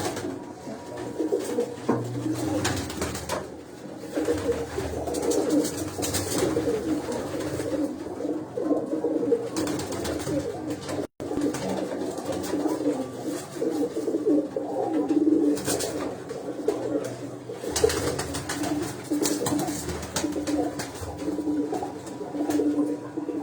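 Pigeons coo continuously in a soft, rolling chorus, close by and steady throughout, with a low background hum and no talking.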